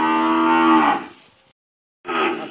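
Cows on a farm moo loudly and close by, one long drawn-out call fading out, then a short gap of silence before another moo begins.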